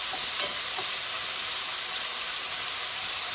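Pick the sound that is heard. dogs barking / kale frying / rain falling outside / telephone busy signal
kale frying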